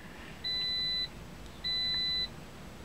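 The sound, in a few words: car beeping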